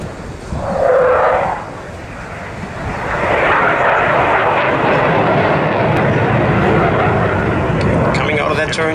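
Eurofighter Typhoon fighter jet at the 2012 Danish airshow in Aalborg, a loud, sustained engine roar that swells and holds, with a brief burst of voices near the start.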